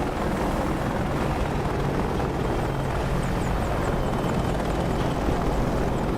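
A helicopter in the DCS flight simulator produces a loud, steady rotor and turbine roar that fills the whole stretch without letup.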